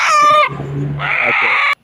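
A chicken clucks loudly up close in two drawn-out, squawking bursts, with a low hum and brief rustle between them.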